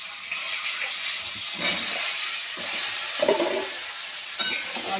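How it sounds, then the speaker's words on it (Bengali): Pointed gourd (potol) frying in oil in a wok, giving a steady sizzling hiss with brief louder spatters, close and continuous with no talking. "পটল দিয়ে দিলাম কড়াতে, ভালো করে ভেজে নেব।"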